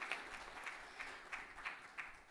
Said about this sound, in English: A round of applause for the PS.